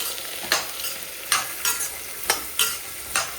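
Chickpea sundal being stirred in a pan, a spoon scraping in about six distinct strokes over a low continuous sizzle, close and clear with no talking.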